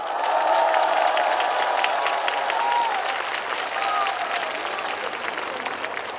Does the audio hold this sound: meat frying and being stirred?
no